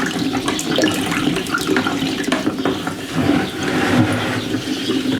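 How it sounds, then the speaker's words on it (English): Sugared water and rhubarb sloshing continuously as they are stirred for rhubarb wine, a steady, fairly loud liquid swirl with no break. "Now I'm just going to stir it to dissolve what sugar is left."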